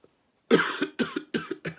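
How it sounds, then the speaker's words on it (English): A burst of four or five harsh coughs in quick succession, close and loud, with no talking. "a bit of a cough this morning"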